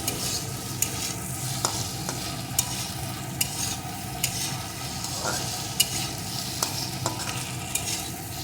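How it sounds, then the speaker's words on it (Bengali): Potatoes fry with spices in a pan for a Bengali rohu fish, potato, bori and eggplant curry, with a steady sizzle and repeated scraping stirs and clinks of a spatula, close and unaccompanied by talk. "আলুর সাথে এগুলো একটু ভেজে নেব"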